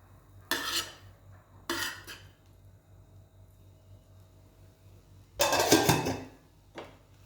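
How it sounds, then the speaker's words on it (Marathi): A metal spoon scrapes and clinks against a dosa on a pan as vegetable filling is spread over it, in three short separate bursts with quiet gaps between them and no talk. "यावरच आपण बनवलेली ही जी भाजी आहे ती आपण स्प्रेड करणार आहोत"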